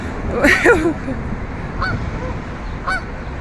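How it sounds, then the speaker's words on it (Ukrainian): Geese honk a few times at moderate distance in Canada, a cluster of calls followed by two single honks, over steady outdoor noise. "Гуси, гуси, я зараз вам їх покажу."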